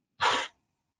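A single short, sharp sneeze, close and loud, bursting out and cutting off quickly into silence.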